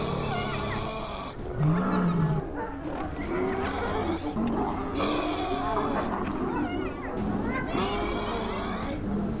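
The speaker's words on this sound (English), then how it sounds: "The old lion roared loudly, the roar hitting the night wall like a whip." An old lion roars loudly at night in the wild, with deep, drawn-out bellows repeating over several seconds above a busy background of other animal noise.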